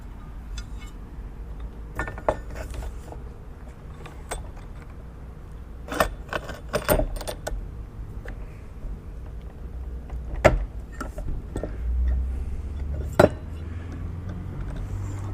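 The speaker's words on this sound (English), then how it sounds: "it does score and snap travertine" Manual tile cutter scoring and snapping travertine tile, a few sharp clicks and clinks scattered over a low steady background hum, with a louder crack near the end.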